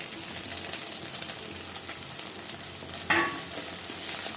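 Crushed shallots with garlic and ginger frying in a pan, a quiet, even sizzle with a single brief clink of a utensil near the end.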